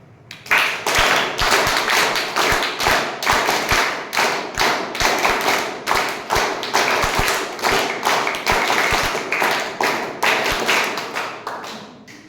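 A room full of club members at a Toastmasters meeting clap in unison, sharp collective claps in a steady repeating rhythm, rising and accelerating in bursts, loud and close, with no speech.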